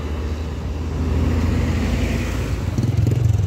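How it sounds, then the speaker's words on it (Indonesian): A Dieng Indah bus passes on a busy road, its engine rumble swelling and then holding strong amid general traffic noise, with a rougher, pulsing throb near the end. "Kemudian ada bus Dieng Indah Almulbek."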